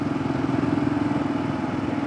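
A motorcycle engine running through its quiet stock exhaust, a steady mid-pitched drone with a faint pulsing throb, close and even, no backfiring or talk.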